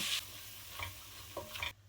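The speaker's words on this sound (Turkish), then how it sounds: "Tencereme 3 yemek kaşığı tereyağı koyuyorum. 1 yemek kaşığı da unumu kavuruyorum." Soft sizzling and stirring of flour roasting in butter in a pot, with a few scraping strokes at intervals against a low steady cooking hiss.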